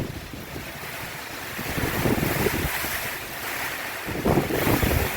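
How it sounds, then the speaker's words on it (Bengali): Strong gusting wind from Cyclone Remal roars in a dense, rushing wash, surging louder in waves as trees strain, close to the microphone with no talk. "ভীষণ ঝড় হচ্ছে।"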